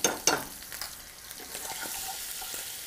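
Garlic and butter hitting a hot pan with scallops, two quick clacks at the start followed by a soft, steady sizzle that settles and holds, close and without talk.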